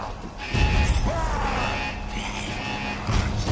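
Zombie creatures attack in an Uncharted video game, with snarling, shrieking noises and crashing impacts running continuously and fairly loud, building again at the end.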